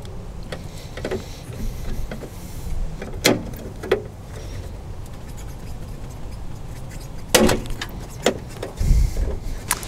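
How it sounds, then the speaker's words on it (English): A ratchet works loose an upstream oxygen sensor on a BMW M54 engine (E39, E46, E53), giving sharp, scattered clicks and short metallic bursts over a low background rumble, with no talking. "We'll get a few more turns on it with the ratchet until we can loosen it by hand"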